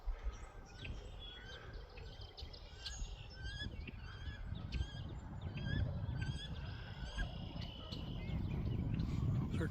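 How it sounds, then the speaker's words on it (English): Ducks call out over a garden pond in spring, repeated honking cries scattered across the clip at a moderate distance, over a steady low outdoor rumble. "Those are ducks making that noise"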